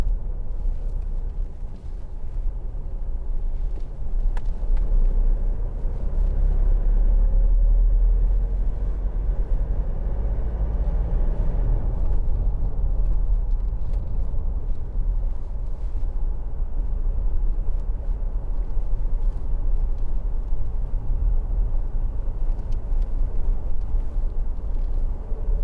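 A 2016 Toyota Hilux with the 2.5 D-4D diesel is driven on a test drive, giving a steady, loud low rumble of engine and road noise heard from inside the cabin.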